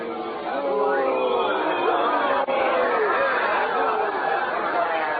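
A street crowd in a 1937 radio drama, a dense continuous babble of many voices shouting and clamoring, loud and close for the whole stretch, with a brief dip near the middle.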